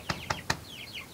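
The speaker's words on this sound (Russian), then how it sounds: "Сейчас постучу." Three quick knocks tap in an even rhythm to call out a broody hen, followed by faint chirping from a bird nearby.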